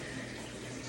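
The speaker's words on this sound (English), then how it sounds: "we found it to be best to put the water in at this time" Water pours steadily into a pot for pork dinner in a home kitchen, a continuous broadband rush at moderate level with no talking over it.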